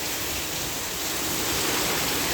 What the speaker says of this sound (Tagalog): Ngayon, sobrang lakas ng ulan. Buhos talaga siya guys.